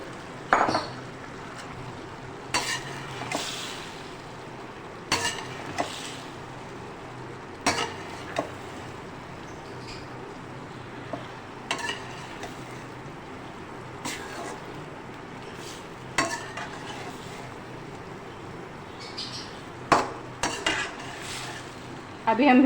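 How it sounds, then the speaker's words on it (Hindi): Okra cooking in masala gravy in a pan, with a soft sizzle underneath and frequent scraping, clinking spoon stirs against the metal at an irregular pace, fairly close and moderately quiet. "अभी हम भिंडी को इसके अंदर 1 से 2 मिनट मतलब पकाते हैं"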